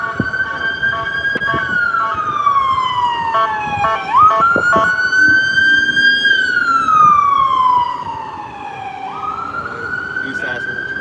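Emergency vehicle siren wailing loud and close, rising and falling in long sweeps for several cycles, with faint background noise and no clear talk.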